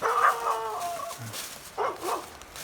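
Dogs on a Catskills mountain hiking trail give two brief barking bursts at moderate distance, fairly clear against a quiet outdoor background.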